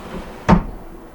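A cupboard door shuts inside a Phönix 9000 BML motorhome on an Iveco Daily chassis, one sharp, close thud against a quiet interior.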